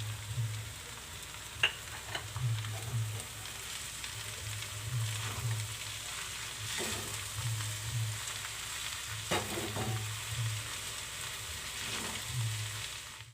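Schezwan fried rice with spring onions stir-fries in a hot pan, a steady close sizzle broken by soft scraping stirs and a few sharper clinks at irregular intervals.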